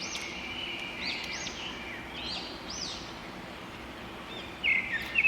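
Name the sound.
birds singing near Yana caves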